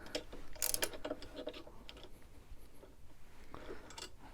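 Ratchet wrench clicking while tightening the bolts of a pannier rack on a Husqvarna 701 Enduro motorcycle, with a few quick bursts of sharp ratcheting clicks, close and fairly clear, with no talking.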